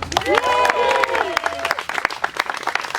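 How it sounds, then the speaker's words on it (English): At a ballpark ceremony, an outdoor crowd applauds for an honoree, a scattered patter of clapping that builds and lingers, with a voice speaking over the start. "can we get a round of applause?"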